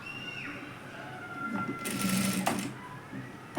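Sewing machine stitching tucks on a blouse, a steady mechanical whir running through most of the moment with a brief louder burst near the middle, close and moderately loud, no talking over it.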